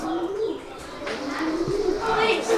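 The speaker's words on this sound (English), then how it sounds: "These are the strangest birds I've ever seen." Show pigeons coo in the poultry area of the Hobart Show, with soft rolling calls repeating close by while people talk nearby.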